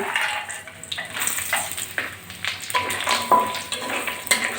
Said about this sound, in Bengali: প্রথমে মাসকলার ডালের বড়িটা ভেজে নেব তেলের ভিতর দিয়ে দিচ্ছি